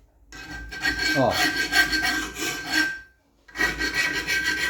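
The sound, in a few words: hand file rasping a steel dagger blade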